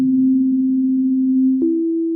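A steady, pure synth tone from oscillator 2 of the BLEASS Megalit wavetable synthesizer, unmodulated apart from reverb, holds loud and clean, then shifts slightly in pitch near the end.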